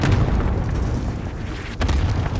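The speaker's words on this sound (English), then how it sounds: "Cluster strike away." Cluster strike explosions in the video game Call of Duty: Modern Warfare roll as deep, continuous rumbling booms, with a sharper blast cracking through near the end.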